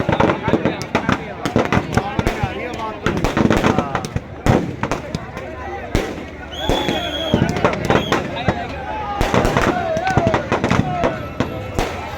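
Fireworks crackle and bang inside a burning Ravana effigy at a large Dussehra Ramleela in Rohini, with dense rapid pops and sharp bursts going off continuously over crowd noise and nearby voices.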